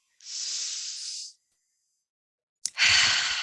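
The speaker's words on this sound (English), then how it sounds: "I want everyone to take a deep breath" A deep breath is drawn in as a soft, steady airy hiss, then after a short silence it is blown out in a louder, rougher rush of breath close to the microphone.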